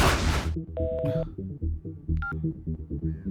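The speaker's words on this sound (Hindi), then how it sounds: "विनय फोन कर रहा है" Telephone tones for an incoming call in a Hindi-dubbed South Indian film, short electronic beeps ringing out over a steady bed of low music and effects.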